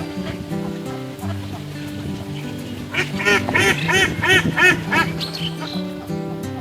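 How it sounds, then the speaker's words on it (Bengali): Ducks quack in a village pond in Bangladesh as they move through the water catching fish: a close cluster of repeated, rhythmic quacks rising over a steady background hum and fading toward the end. "পানিতে হাঁস ছুটে বেড়াচ্ছে এবং সেই সাথে ওরা মাছ ধরে ধরে খাচ্ছে।"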